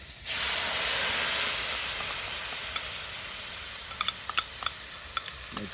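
Guyanese curry paste frying in a hot pot for chicken curry, a steady loud sizzle that surges early then settles, with a few sharp spatters and pops toward the end and no talking.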